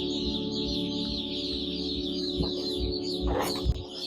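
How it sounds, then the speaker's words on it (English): Hundreds of poultry farm chicks chirp continuously in a dense chorus, with rhythmic low thumps and a brief rustling burst near the end. "Now, the next batch, which is 500 birds, they are in here, they're actually being prepped."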